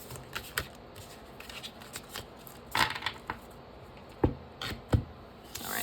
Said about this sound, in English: I'm going to pause you for a second just so I can shuffle.